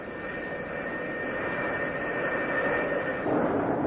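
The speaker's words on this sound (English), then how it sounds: "the deck director signals the pilot to run his engines up to takeoff power." McDonnell Douglas F-4 Phantom II jet engines run up to takeoff power on a carrier deck, a loud sustained roar with a steady whine that swells slightly near the end, heard alone.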